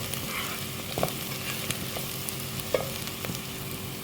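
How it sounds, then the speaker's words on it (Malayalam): Onions, shallots, green chillies, ginger and garlic sauté in a pan for a Kuttanad-style duck curry, a soft, even sizzle broken by a couple of spoon scrapes and taps. "പിന്നെ ഉള്ളിയും സവോളയും പച്ചമുളകും ഇഞ്ചിയും വെളുത്തുള്ളിയും അങ്ങനെ എല്ലാം സ്പൈസിയൊക്കെ ഒന്ന് വഴന്ന് നല്ല മണമായി തുടങ്ങിയിട്ടുണ്ട്"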